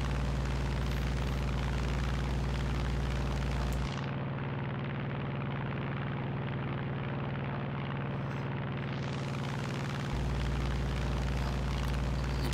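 Steady, loud propeller aircraft engine drone in the combat flight game War Thunder. It holds a continuous roar throughout, and the tone shifts noticeably in the middle stretch before returning to its earlier pitch.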